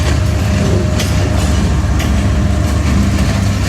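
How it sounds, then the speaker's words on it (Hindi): A train rolls into a station on the Sir Syed Express route in Pakistan, a steady loud rumble of wheels on rail with clickety-clack and a faint squeal, close and continuous. "अब पे भी एक ट्रेन पहुंच रही है"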